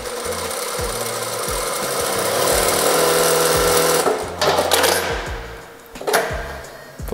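A JACK A8 industrial sewing machine stitching a double layer of very thin fabric, a loud, steady mechanical whirr with fast rhythmic needle clatter, swelling and easing as it runs and pausing briefly before starting again.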